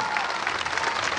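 Dense, steady crowd applause greets a firefighter task force arriving at a ceremony with the Río Bueno fire brigade, a mayor and a deputy, sustained and even throughout the short stretch with no voices standing out.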